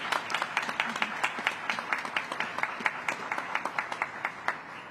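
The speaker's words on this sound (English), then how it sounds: "I would like to extend to our committee another round of applause" An audience applauds the organizing committee at a Hispanic Heritage Month art exhibit opening, with a few clear, rhythmic claps standing out from the steady clapping of a small crowd.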